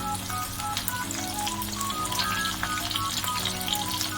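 Onion and chillies fry in hot oil for a chicken dum biryani, a steady close sizzle and crackle that carries on evenly without pause.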